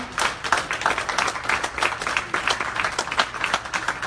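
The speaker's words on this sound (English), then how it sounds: "please round up here so that we can give you another round of applause" An audience at a creative session applauds, a dense and steady patter of many hands clapping throughout at moderate distance, with no speech over it.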